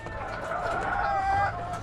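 Pet chickens, a flock of about 25 hens kept at home, clucking steadily and fairly close for the whole stretch, with continuous overlapping cackles and no talk.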